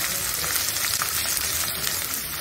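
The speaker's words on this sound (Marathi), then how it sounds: "आता हे सर्व मसाले आपण छानपैकी परतून घेऊया।" Spices for masala bhindi, among them red chili powder, turmeric, coriander, cumin and garam masala, sauté in hot oil, giving a dense, continuous close-up hiss with no talking.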